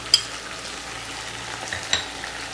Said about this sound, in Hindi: अब मैं इसके अंदर अदरक लहसुन है वो डाल दूँगी इसके अंदर, और जो हमारा मसाला था वो डाल दूँगी इसके अंदर